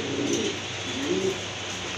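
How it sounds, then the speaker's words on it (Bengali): A pair of pigeons for sale, Mayna-type birds, coo softly in low repeated phrases against a steady background hum, with no talking. "এই যে দেখেন আরেক জোড়া কবুতর চলে আসছে এখানে"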